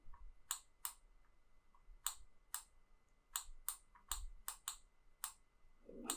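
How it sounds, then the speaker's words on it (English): Isolated clicks of keys on a computer keyboard as a word is typed into a document, about a dozen sharp taps in small bursts, close and fairly quiet with no talking. "So I'll go ahead and just type pencil."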